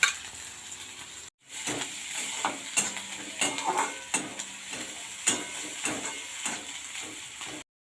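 Chopped onion and garlic sizzle in hot oil in a wok, a steady close frying hiss broken by the scrape and clink of a stirring spoon, with no voices.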